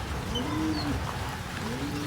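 Soft, low racing pigeon coos repeat faintly against a steady background hiss.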